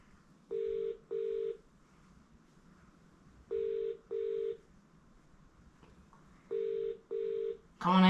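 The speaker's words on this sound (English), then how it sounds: "Come on, answer the phone." A telephone ringback tone repeats in paired double rings, three pairs separated by pauses, heard through a phone speaker during a call to a Bunnings hardware store, before a recorded voice begins.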